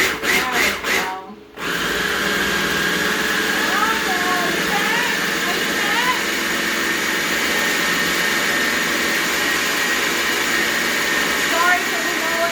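A food processor whirs steadily as it processes sugar for a cheesecake pie, a loud continuous motor drone after a few brief stuttering pulses, with faint background voices.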